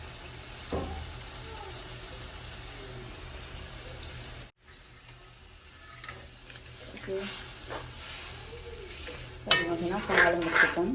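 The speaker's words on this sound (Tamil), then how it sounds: "இது வந்து நல்லா கொதிச்சு வரட்டும்" A pot of curry with milk bubbles and sizzles softly on the stove, with gentle stirring and a brief pause, growing louder and busier toward the end.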